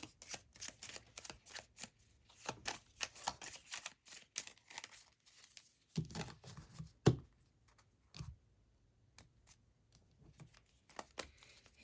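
A deck of oracle cards is shuffled by hand. Quiet, scattered bursts of riffling and flicking come close to the listener, with a sharper snap partway through and short pauses between handfuls.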